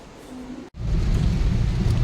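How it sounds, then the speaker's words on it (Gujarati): Heavy rain pours down in a loud, dense roar; after a brief dropout it surges back even stronger and steady. "વરસાદ મસ્ત પડી રહ્યો છે"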